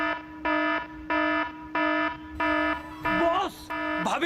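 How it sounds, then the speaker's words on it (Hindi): Electronic alarm ringing inside a room, a regular beeping tone pulsing about twice per second, loud and close, with a voice breaking in over the last beeps. "बॉस, भाभी के कमरे का अलार्म बज गया"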